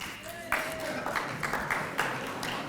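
Scattered audience applause at a college hall of fame induction ceremony, a light patter of separate claps with a few sharper hits, while a faint tone and room murmur sit underneath.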